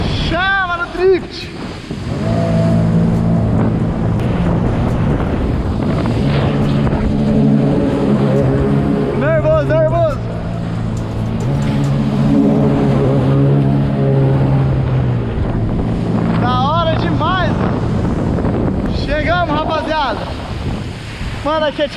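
A jet ski running over open water on a trip with friends, with steady engine drone, wind buffeting and splashing waves throughout, while voices shout and talk over it.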